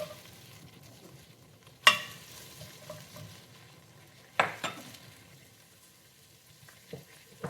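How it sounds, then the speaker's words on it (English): Chopped medium onion cooking in a little oil in a stew pan, a quiet low sizzle broken by a few sharp spoon-and-pan clatters, with a louder scrape near the start and another midway. "put our onions in here with a little bit of oil. Cook them for a minute."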